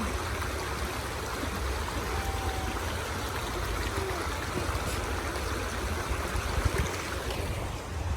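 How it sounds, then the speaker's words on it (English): A mountain stream flows along the Cataract Falls trail in the Smoky Mountains, a steady, even rush and babble of water that holds at moderate level throughout with no talking. "being on these rivers, being on these streams, and that sound"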